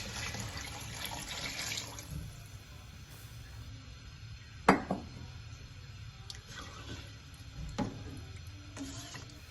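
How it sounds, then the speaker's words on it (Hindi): Water is poured into a cooking pot for chicken pulao, a steady splashing pour with a few sharper clinks and knocks of the pot, close up with no talking. "अब मैं इसमें डाल रही हूँ पानी। 2 लीटर पानी डालना है।"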